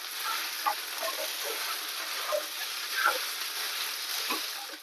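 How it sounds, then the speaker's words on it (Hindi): Flaxseeds dry-roasting and being stirred continuously in a pan over low to medium heat, giving a steady soft sizzle and hiss with occasional light scraping taps of the spoon, no voices. "लगातार इसे इस तरह से चलाते हुए हमें भूनना है इसको"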